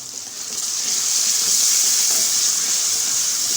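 Beef tikka karahi fries with spoonfuls of green masala stirred into the tomato base, giving a steady, loud, close sizzle and hiss that swells slightly and holds without pause. No one speaks.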